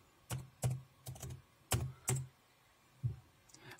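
Distinct keystrokes tapped on a computer keyboard while entering a Windows boot-repair command, a few separate clicks and short bursts spread unevenly, close and fairly quiet with no talk.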